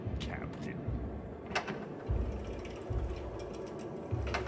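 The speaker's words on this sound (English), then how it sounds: "I'll handle the rear propeller. Crab, pedal the front screw" Pedal-powered submarine propellers turning, heard as steady ratcheting clicks and gear-like mechanical clatter over a low rumbling churn, with a few heavier thumps.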